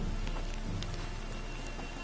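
Steady rain falls in the video game The Witcher 3: Wild Hunt, a dense, even hiss of drops on surfaces that holds at a constant level throughout.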